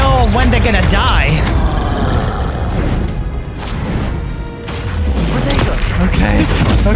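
Spells cast during combat in the video game Hogwarts Legacy, a dense, continuous barrage of loud blasts, bursts and crashes layered with swooshing effects and music, with a brief lull around the middle before the onslaught resumes.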